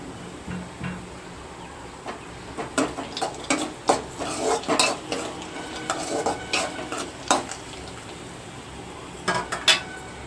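Fried vermicelli is tipped into a pot of semiya payasam and stirred, giving a run of close metal clinks and scrapes of spoon against vessel, clustered in bursts with short pauses between, with no talking.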